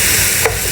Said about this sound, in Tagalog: Gisa lang. Yan. Gisa, halo-halo.